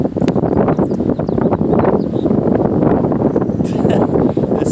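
Strong wind blowing straight into the microphone on a golf practice range, a loud continuous rumbling buffet with no talk.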